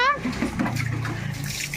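Water from a hose and buckets splashes during Holi play at home, a steady rushing gush with a voice and other voices chattering over it.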